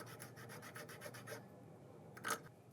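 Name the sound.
cutleaf toothwort rhizome rubbed on a multi-tool file into paste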